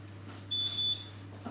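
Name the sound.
oven timer beeping when bread loaf is done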